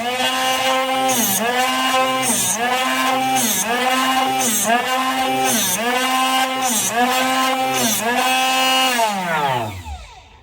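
A drill bit grinds through metal on a PM-1054 knee mill, a steady, loud motor whine that dips in pitch in a regular rhythm about once a second, then winds down abruptly near the end.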